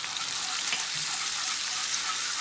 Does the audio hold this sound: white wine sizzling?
yes